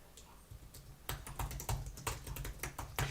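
Keys on a computer keyboard tapped in quick irregular bursts, crisp and close, with no voices.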